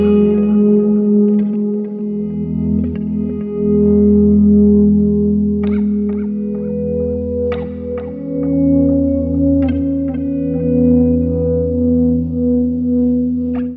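A Keeley Synth 1 guitar effects pedal set for an auto volume swell, with distorted, synth-like sustained notes that fade in softly, layered with echo and a few brighter plucked attacks, steady and continuous with no talking.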